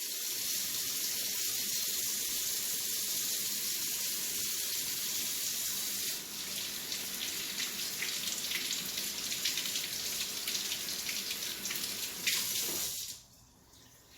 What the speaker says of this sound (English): So just rinse it, wash it off.